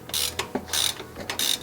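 A ratchet on a BMW N55 downpipe bolt gives three quick bursts of sharp clicking, each a short run of rapid pawl ticks separated by brief pauses, close and clear with no talking.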